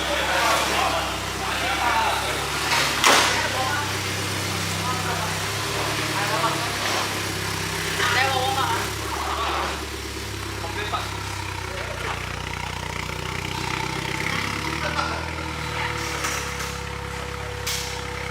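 A Mitsubishi 4B11T turbocharged engine idles at a Singapore night car meet, a steady low rumble running throughout beneath people talking nearby and general crowd chatter.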